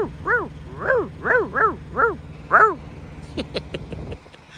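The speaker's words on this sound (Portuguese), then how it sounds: "Olha o cachorrão ali dentro, ó." A big dog barks in a steady run of about six deep, even calls, close and loud, followed by a few sharp knocks before it fades out.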